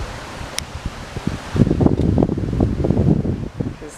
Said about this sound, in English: It's already getting a little windy.